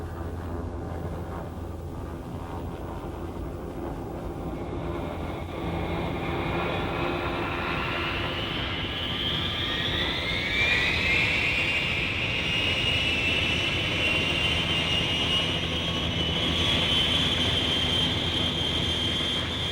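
A Huey Cobra attack helicopter flies past with a steady rotor and turbine roar that grows louder midway and holds, a rising whine sweeping up through it.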